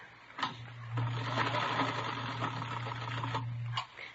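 A sewing machine whirs steadily for a few seconds as a radio drama sound effect, with a low motor hum under rapid mechanical clatter that stops abruptly.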